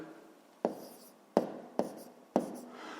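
Someone writes numbers by hand, most likely on paper, giving four separate, close scratchy strokes spaced unevenly across a quiet background.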